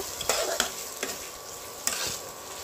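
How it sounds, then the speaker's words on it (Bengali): A spatula scrapes and knocks around a pan as spice paste with salt and turmeric is stirred, several distinct scraping strokes over a constant loud sizzle, no talking. "ভালোভাবে নেড়ে নেব"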